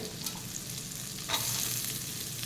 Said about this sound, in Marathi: कांदा परतून झालेला आहे त्याच्यामध्ये आता ही शिमला मिरची घालते